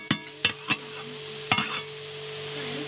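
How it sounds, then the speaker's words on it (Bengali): Bananas frying in a pan make a soft, steady sizzle. Several sharp utensil taps and knocks come in a cluster early, then one more a little later. "এই যে দেখো কলা ভাজা হচ্ছে এখানে"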